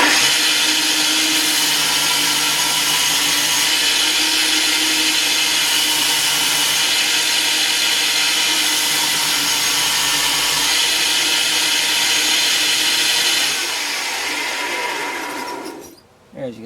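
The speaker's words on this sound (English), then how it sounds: "over at the belt sander now, and just going to show you how I take this paint off" A belt sander grinds paint off a piece of wood in a loud, continuous whine that holds steady for about thirteen seconds, then winds down and stops near the end.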